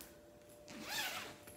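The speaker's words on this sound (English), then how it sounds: "Okay, and it's a zipper closure." A purse's zipper closure is drawn open in one quick, close, rasping pull, alone in a quiet room.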